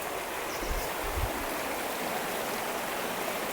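River water flowing at a riverside stay near Srirangapatnam, a steady broadband rush with no breaks, fairly close and even in loudness, with no talk.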